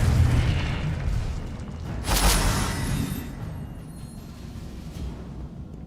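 A Confringo blasting spell bursts in Hogwarts Legacy, a single deep boom landing mid-clip over rumbling game ambience, then fading into a low tail.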